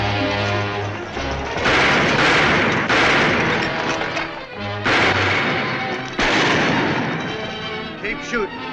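Dense, loud gunfire in a western film shootout, continuous volleys of shots and booming blasts rolling on for several seconds with little pause.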